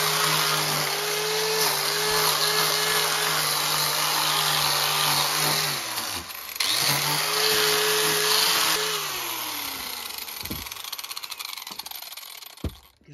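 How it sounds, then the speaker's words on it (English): A power sander grinds pallet wood in a garage with a loud, continuous whining drone that dips briefly in pitch midway and cuts off at the end. "he's doing a little bit of sanding with his sanding"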